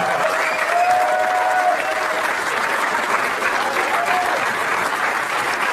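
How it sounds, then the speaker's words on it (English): A stand-up comedy crowd gives sustained applause and cheering for a comedian taking the stage, a dense, even roar of clapping with whoops rising above it throughout. "Put your hands together for Amy Schumer!"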